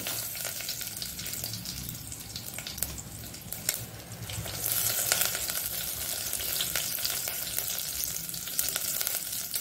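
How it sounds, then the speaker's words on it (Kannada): Mustard seeds and curry leaves fry in hot oil for a Mangalore-style rasam, giving a steady close sizzle with scattered sharp pops and crackles that grow busier partway through, with no one speaking. "ಸಾಸಿವೆ ಬಿಸಿ ಹೊಡೆಯುವಾಗ ಸ್ವಲ್ಪ ಕರಿಬೇವಿನ ಸೊಪ್ಪು"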